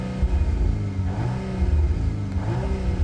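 2025 Volkswagen Golf R in race mode, its engine and exhaust giving a steady loud low drone with rising revs and faint crackles on top, close by and with no talk.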